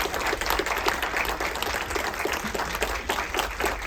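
Steady audience applause at a conference, a dense even wash of many hands clapping that holds at a moderate level for the whole stretch without a voice over it.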